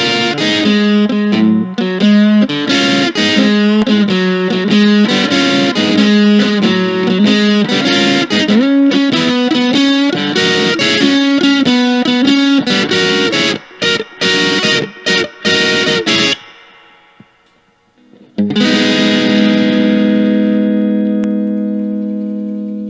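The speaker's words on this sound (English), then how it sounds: "If I back off the distortion a little bit, I can actually get some pretty decent Texas blues" Electric guitar playing Texas blues licks through a lightly distorted effects setup, with steady phrases and sustained notes, a brief gap near the end, then a ringing held chord; no voices.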